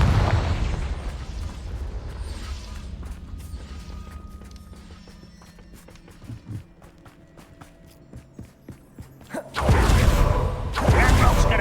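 A Confringo spell fires in the video game Hogwarts Legacy. Quiet footsteps and mechanical clicks lead into two loud, booming bursts near the end.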